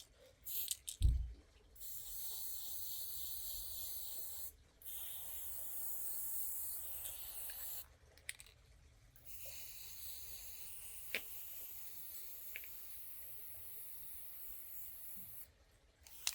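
Matte black Army Painter spray paint going onto a Moebius Models 2001 Space Station V kit, several hissing bursts of several seconds separated by short pauses, close and faint with no talk.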